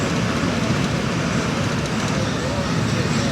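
From aboard the Musa Pak Express near Okara, Pakistan, as the Jaffar Express approaches on the opposite track in the evening, a steady loud rumble of rolling wheels and rail noise continues throughout, with voices mixed in.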